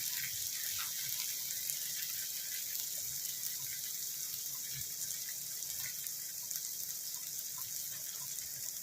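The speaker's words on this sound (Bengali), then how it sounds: "এবারে আমি এতে একটু জল দিয়ে দেবো।" Water is poured into a cooking pot of mutton kima on the stove, a continuous splashing hiss that stays even throughout.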